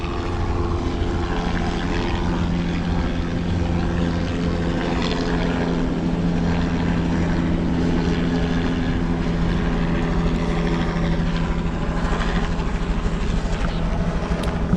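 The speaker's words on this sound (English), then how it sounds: "look at that helicopter" A helicopter passes overhead, its steady droning rotor and engine rumble filling the air continuously and fairly loud, with no talking while it goes by.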